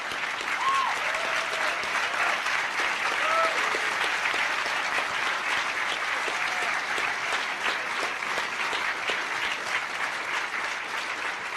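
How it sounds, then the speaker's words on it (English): Sustained audience applause at a closing ceremony for staff in red shirts, a thick, even roar of many hands clapping from start to finish, with a few faint whistles or voices inside it. "I would like to applaud every one of the people in the red shirts"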